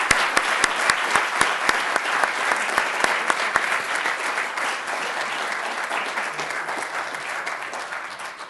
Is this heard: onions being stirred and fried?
no